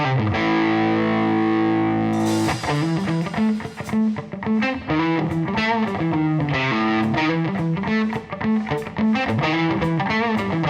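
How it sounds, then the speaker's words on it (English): A distorted electric guitar plays chords and riffs with a wash of reverb, loud and continuous, with no voices. "It sounds like a little Marshall of Doom, but with reverb."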